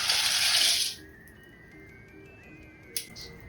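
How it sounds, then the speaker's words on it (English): Pasta tipped into a pan of plenty of boiling water with a little oil, a loud hissing pour for about a second, then quiet bubbling and a small clink near the end. "take your pasta into a pan with plenty of boiling water"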